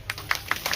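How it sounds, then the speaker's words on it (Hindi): Audience clapping at a public road-protest gathering, heard as a few scattered, light claps in short bursts rather than sustained applause. "तो एक बार तालियां हो जाए आप"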